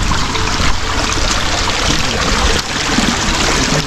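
A hillside stream trickles and gurgles on the trail toward Prabalgad fort, a steady, fairly loud wash of running water that continues unbroken, with only a brief dip near the end.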